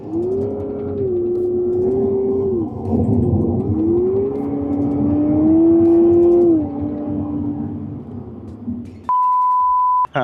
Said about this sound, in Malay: Tapi sebenarnya bunyi engine tu adalah bunyi engine fake yang di-generate oleh komputer.